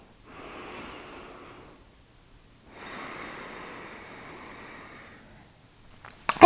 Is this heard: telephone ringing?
no